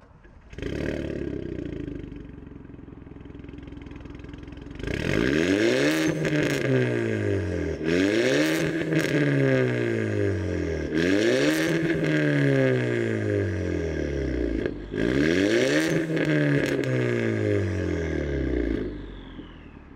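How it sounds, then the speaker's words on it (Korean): A tuned Hyundai Avante Sport exhaust revs repeatedly, with loud rising-and-falling bursts and popping between them, close by and with no talking. "이제 뒤쪽 본격적으로 보기 전에 배기음 듣고 오시죠"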